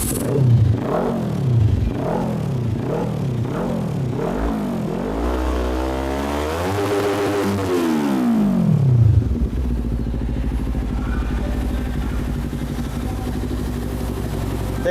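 A Kawasaki Ninja 400SE two-cylinder motorcycle engine revs close by in several rising and falling blips, then one long sweep up and back down before settling into a steady idle.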